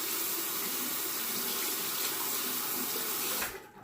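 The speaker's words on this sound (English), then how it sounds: "Let me rinse the razor." A disposable Noxzema razor rinsed under a running bathroom tap, a loud, steady rush of water splashing into the sink for several seconds before it cuts off abruptly near the end.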